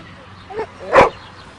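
A dog gives a short single bark, preceded by a faint yip, close and brief against a quiet indoor background.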